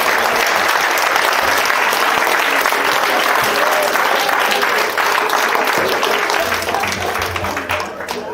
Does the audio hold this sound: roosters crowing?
no